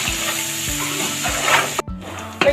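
A paste of ginger and six or seven green chilies frying with onion and garlic in a pan for a rice dish, a steady close sizzle broken by the scrape and clatter of a stirring spoon.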